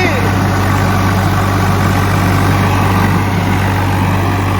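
A tractor engine, on a farm rig running a wheat harvester setup, holds at high throttle in a steady loud drone with a strong low hum and no pauses.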